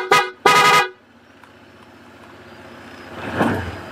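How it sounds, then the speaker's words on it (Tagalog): Two short, loud horn honks from a Honda ADV 160 scooter in quick succession, followed by a quiet idling hum and a brief rustle. "Pati busina."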